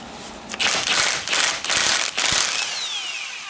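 Ratchet wrench with a 32mm socket cranking to loosen a bolt, four rapid clicking bursts in close succession, loud and near with no talk.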